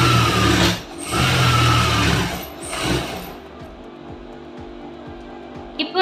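Sewing machine stitching along the edge of blouse lining, running in loud stretches up close, then fading to quieter, uneven mechanical ticking.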